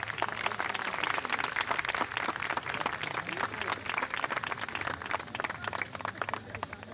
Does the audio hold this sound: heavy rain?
no